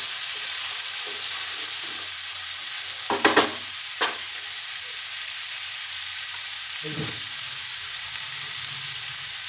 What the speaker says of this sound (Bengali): লাউ আলু কষানো হয়ে গেছে